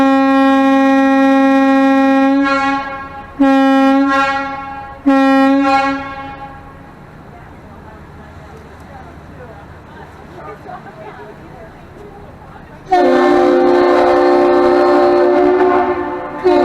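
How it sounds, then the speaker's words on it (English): A tour boat horn in Duluth, Minnesota sounds a bridge salute: loud, tonal blasts in a long-short-short pattern, then quiet harbor ambience before another loud multi-tone horn answers near the end. "The captain will signal salute the bridge with 3 loud blasts of our horn, 1 long and 2 short"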